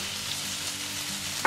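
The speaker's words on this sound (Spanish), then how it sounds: "removemos así durante 30 segunditos" Onion and garlic fry in a pan and are stirred with a spoon, giving a steady close sizzle with soft scraping for about a second and a half, then a brief sharper clink at the end.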